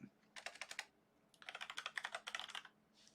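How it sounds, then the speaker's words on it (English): Close, crisp computer keyboard typing in two quick bursts of rapid keystrokes separated by a short pause, in an otherwise quiet room with no talking. "So we'll type in introduction"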